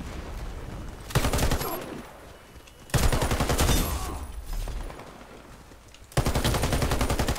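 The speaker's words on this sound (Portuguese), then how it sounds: "Eu errei todos os tiros a um centímetro da cabeça do cara" Gunfire from the Warface video game with an MSBS Radon rifle cracks out in loud rapid bursts, separated by quieter gaps of game ambience and no speech.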